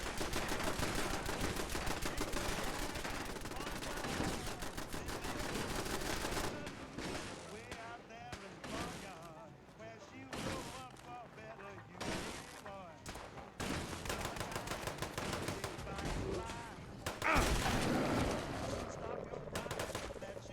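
Defensive turrets in the video game Fallout 76 fire repeated rapid bursts of gunfire, dense and loud at first and then in broken volleys, with a voice present over the shooting.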